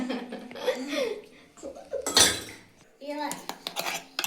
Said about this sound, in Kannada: ಇದನ್ನ ಇದು ಬಾಕ್ಸಿಗೆ ಹಾಕೊಳ್ತಾ ಇದ್ದೀನಿ. ಸ್ಟೀಲ್ ಬಾಕ್ಸ್ ಎಲ್ಲ ಹಾಕೊಳ್ತಿದ್ದೀನಿ.